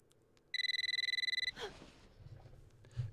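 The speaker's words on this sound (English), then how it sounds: "Ringing phone." A telephone rings in the video game Eternal Darkness, a single one-second burst of rapid electronic trilling, followed by low rumbling ambience and a few soft thuds.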